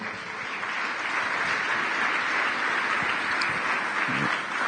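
A church congregation applauds together during a French-language worship service, steady dense clapping filling the space without pause, fairly loud and even, with no voices standing out.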